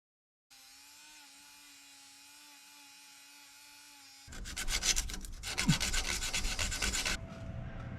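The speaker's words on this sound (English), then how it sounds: "I'm gonna try using this die grinder with a small bristle wires. made out of stainless steel" Die grinder with a small stainless steel wire brush working on a VW Kombi heater box, a steady motor whine at first, then loud harsh scratching bursts as the bristles bite the metal, close and alone.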